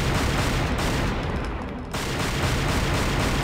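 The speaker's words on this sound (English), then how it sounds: "I'm still shooting infinity ammo" Rapid, continuous gunfire from Dante's twin pistols in the video game Devil May Cry 2, a dense loud barrage of shots that briefly thins in the middle before resuming at full intensity.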